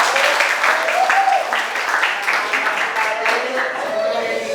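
Students in a classroom clap in a brisk, continuous patter from start to finish while young voices chatter and call over the noise.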